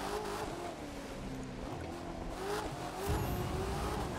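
A Corvette C8 spins out in The Crew 2 racing game, its tires squealing in a steady, loud whine over continuous engine drone, the screech rising sharply near the end.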